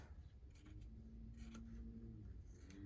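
Scissors snip through quilted Christmas stocking fabric around the toe, a few short crisp cuts close by over a low steady hum, with no talking.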